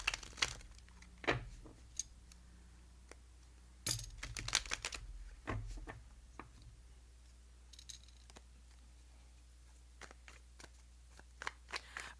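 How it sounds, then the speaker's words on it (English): Tarot cards being shuffled by hand, heard as quiet, close riffles and soft papery taps and snaps in irregular bursts. "Let me do one more shuffle."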